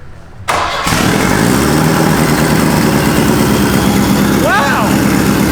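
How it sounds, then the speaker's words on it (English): A big turbo sleeper wagon's engine catches after a brief crank and settles into a loud, steady, rumbling high idle close by, with a brief squeal near the end. "That's a high idle!"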